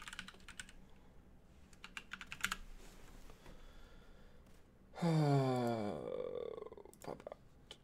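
Soft, scattered clatter from a computer keyboard in several brief bursts, close and quiet, broken by a loud sigh-like vocal sound near the end.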